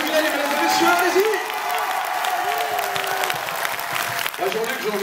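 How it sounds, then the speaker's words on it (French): A theatre audience applauds a singer, sustained clapping and crowd noise while a voice talks over the applause and a sung or held tone rises in the middle. "Allez, on peut l'applaudir."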